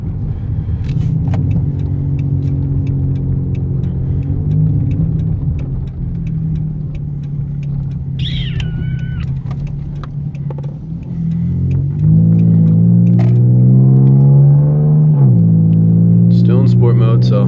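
A 2012 Dodge Charger SXT with a 3.6L V6, Magnapack exhaust and K&N air intake, revved and heard from inside the cabin with the windows up, a low droning engine note that swells and climbs as a voice talks over it.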